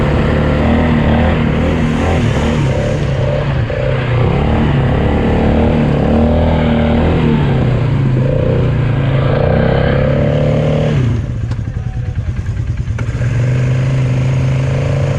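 Loud, continuous four-wheeler ATV engine revving and droning close up while the wheels spin, the pitch rising and falling for about fifteen seconds before briefly dropping off near the end.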